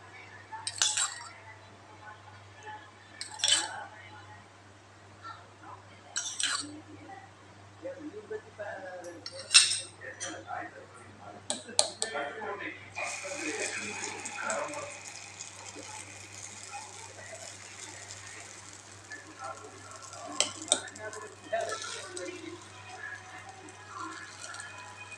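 Metal spoon clinks and taps against a pan in scattered bursts as wheat paniyaram batter is spooned into an oiled pan, followed by a soft sizzle, close and fairly quiet with no talking.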